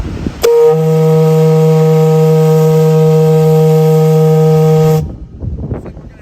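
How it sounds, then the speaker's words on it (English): A loud, deep lighthouse foghorn at Old Mackinac Point Lighthouse, Mackinaw City, blares in one long steady blast of several seconds, then cuts off; brief background noise follows. "Sounding the foghorn!"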